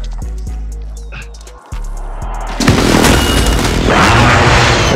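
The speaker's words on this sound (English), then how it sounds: "Airstrike inbound." Airstrike explosions in Call of Duty Warzone on Rebirth Island (Alcatraz): a few low thuds early on, then a sudden loud, sustained roar of blasts and debris that fills the rest of the moment.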